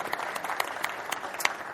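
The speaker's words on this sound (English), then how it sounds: "So give yourselves a round of applause." Applause from a live audience at the close of an anesthesia and critical care talk, steady scattered clapping of moderate loudness with a few sharper claps standing out, heard alone for under two seconds.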